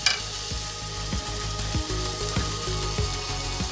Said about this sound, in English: I'll put them on the grill at last minute because it doesn't take long to cook.